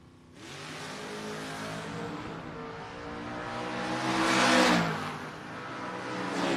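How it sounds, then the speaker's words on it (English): A third-generation Camaro and a fifth-generation car launch in a no-box drag race, engines roaring loudly and steadily, climbing in pitch to a peak before easing off, no talking. "He's piling that third generation Camaro up against the fifth generation ride of Jax Barton"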